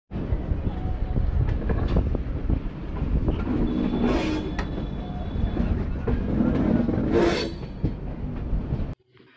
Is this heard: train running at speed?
yes